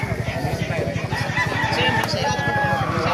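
A White Kelso gamefowl rooster crows amid other fowl, the call running under a steady rhythmic clucking and barnyard bustle, with a voice talking faintly in the background.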